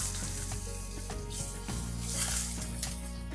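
Ghee with cumin seeds and asafoetida sizzles steadily in a hot pan for Marwadi-style gatte ki sabzi, a continuous close hiss with a few faint clinks and no talking.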